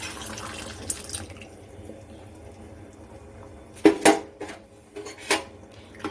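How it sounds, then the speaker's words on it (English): Dal tipped into a cooking pot while making South Indian sambhar, with a few sharp clatters and splashy knocks near the end after a quiet, steady kitchen background. "Now we can add the dal. I'm adding the dal."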